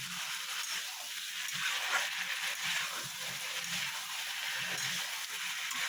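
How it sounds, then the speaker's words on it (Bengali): Raw papaya pieces being sautéed and stirred in a pan, a continuous close sizzle with faint scraping underneath, steady and alone without speech. "এইভাবে একটু ভালো মতন কষিয়ে নেবেন।"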